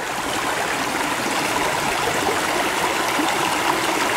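River water flowing steadily past a rural property, a continuous close rush and gurgle with no pauses and no voices.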